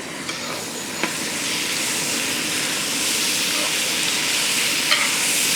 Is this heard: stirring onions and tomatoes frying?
yes